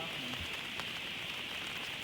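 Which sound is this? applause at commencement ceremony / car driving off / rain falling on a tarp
rain falling on a tarp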